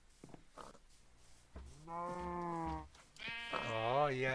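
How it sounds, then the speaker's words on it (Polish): Sheep in a video game village let out two drawn-out bleats, the second higher and wavering, heard fairly close with quieter background sounds before them. "I owce."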